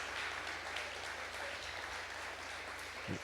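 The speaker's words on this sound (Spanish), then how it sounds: "Un fuerte aplauso a todas las mamás." A strong round of applause from an audience honouring mothers at a Mother's Day gathering, thick continuous clapping from many hands throughout, without speech.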